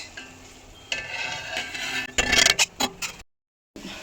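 A crispy Diwali mixture sizzling in hot oil is stirred briskly, giving a steady rustling, crackling scrape that grows louder in a burst of vigorous strokes near the end before cutting off abruptly; no voices.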